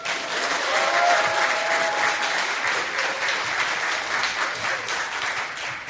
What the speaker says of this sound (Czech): Tak takový potlesk bych teď chtěl slyšet.